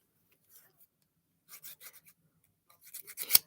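Dip powder nails being filed, quick dry rasping strokes in short bursts, quiet at first and then a faster, louder run of scrapes near the end, close up with no talking.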